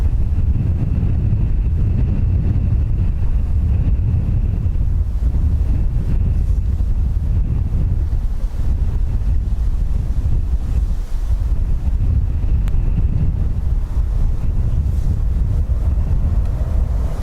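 Strong wind at Dublin Airport buffets the microphone in a steady, close, low roaring rumble that surges and eases, with no other sounds standing out.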